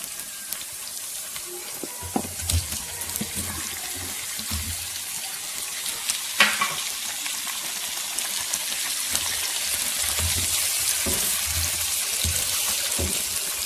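Chicken frying in a pot with tomatoes and potatoes being added for a homemade Pakistani chicken biryani, giving a steady hiss and sizzle throughout with a few soft clinks and a brief louder knock midway.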